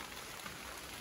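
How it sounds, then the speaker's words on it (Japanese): Rain falls steadily outdoors at a former wartime special-attack boat base site in Kajiki, Hyuga, Miyazaki, a soft, even hiss with no voices. "雨降りだしたし"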